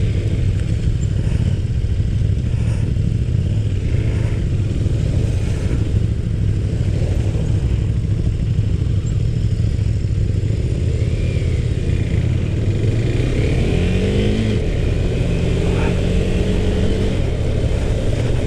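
A 2017 KTM 390 Duke's engine hums steadily under a continuous rush of wind from an onboard position, with a rise in revs near the end of the ride.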